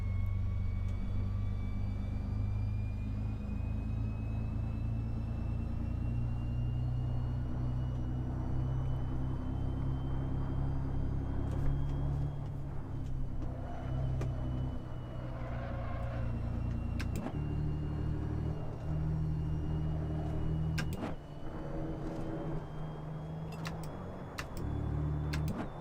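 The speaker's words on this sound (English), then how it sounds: "Why does the car sound quieter in 6th gear?" Race car engine in sixth gear in the video game Assetto Corsa, a steady low drone at low revs for a long stretch, with a few brief shifts and dips in the latter half.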